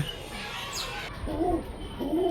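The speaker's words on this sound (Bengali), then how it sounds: "এই যে শুরু হয়ে গেছে মারামারি কবুতর প্রচুর মারামারি করে" Pigeons coo at close range at home, with two soft throaty coos rising over a faint background hum.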